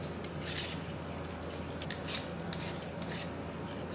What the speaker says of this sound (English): I'm just going to peel them.